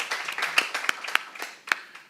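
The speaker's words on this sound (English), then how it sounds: "she deserves an applause" An audience applauds at an awards presentation for Global MPN Awareness Day, with steady, dense clapping and a few sharper claps standing out across a couple of seconds.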